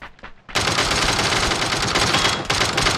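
Sustained automatic gunfire in the video game PUBG, a short quiet lead-in then a loud continuous burst of rapid shots lasting over two seconds, briefly dipping near the end before resuming.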